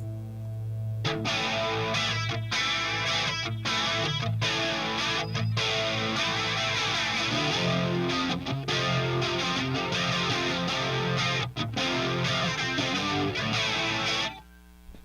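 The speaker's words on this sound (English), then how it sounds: "We'll play around with the distortion and a little bit of the modulation I have here and some delays." Heavily distorted electric guitar through a Helix modeler plays sustained chords with a shimmering, swirling modulation and echoing delay tails, loud and continuous before stopping abruptly.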